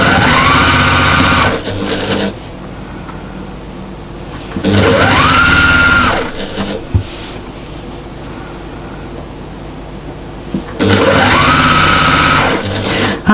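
Sewing machine stitching quilt squares with a 1/4 inch seam, running in three steady bursts of a few seconds each, speeding up and slowing down, with quiet pauses between.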